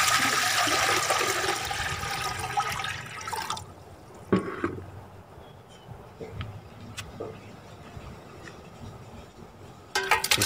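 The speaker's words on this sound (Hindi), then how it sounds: "ये बर्तन में पानी डाल लेना है।" Water runs steadily into a cooking pot for beef yakhni pulao for a few seconds, then stops, leaving quiet clinks and faint drips before a brief splash at the end.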